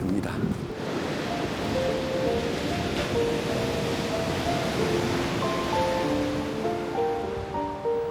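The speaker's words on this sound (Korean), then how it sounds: "바람이 진짜 세군요." Strong wind blowing by the sea on the Korean coast, a loud continuous rush with surf beneath, buffeting the microphone, while music plays softly in the background.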